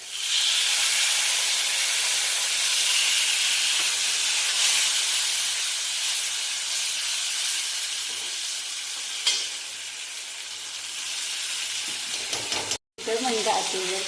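A little water splashes onto stuffed bitter gourds frying in a cumin-mustard tempering, releasing a loud, dense steaming hiss that holds steady and then eases, with a short break and a clatter at the end.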